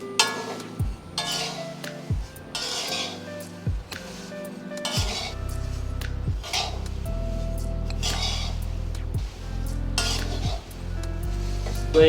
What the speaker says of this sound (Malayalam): ഇപ്പോൾ ഏകദേശം ഒരു 10 മിനിറ്റ് അടുത്തായി നമ്മൾ വറുത്തോണ്ടിരിക്കുന്നത്.